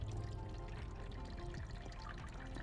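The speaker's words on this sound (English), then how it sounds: "Okay, so we're gonna pour this over the top" Water is poured over the top of a broken-up soil sample in a container, giving a continuous, soft splashing and trickling pour heard up close with no talking.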